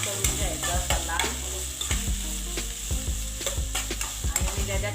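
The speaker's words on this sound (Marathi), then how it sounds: "आता कांदा मस्त नरम करून घ्यायचा लाल।" Onion frying in hot oil with spluttering mustard seeds, a steady sizzle under repeated stirring and scraping of a spoon in the pan, close and fairly loud, with no talk.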